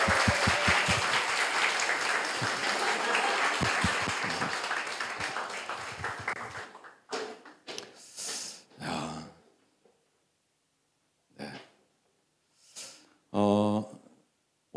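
A church congregation at an evening worship service applauds warmly, sustained clapping that gradually fades out, followed by scattered coughs, throat clearing and a few isolated sounds in the quiet hall.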